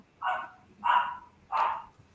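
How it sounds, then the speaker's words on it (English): A dog barks three times at an even pace, medium-distance and clear, with quiet gaps between each bark and no talking. "We can hear a dog in the background."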